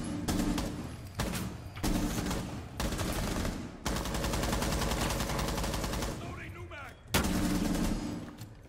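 Gunfire in Rainbow Six Siege: loud bursts of rapid shots broken by short pauses, one long sustained volley in the middle and a sharp final burst, with faint voices beneath.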